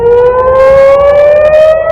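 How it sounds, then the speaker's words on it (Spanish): A civil defense siren in Israel, sounding a warning of a missile and drone attack, wails loud and continuous, its pitch slowly climbing, heard alone without any speech. "Las sirenas que anunciaban el ataque sonaban de norte a sur."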